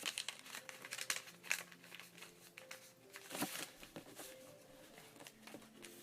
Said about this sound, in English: I'm going to just fold along the crease that we have